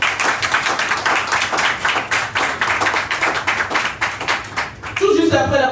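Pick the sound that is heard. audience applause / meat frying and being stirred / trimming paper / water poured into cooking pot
audience applause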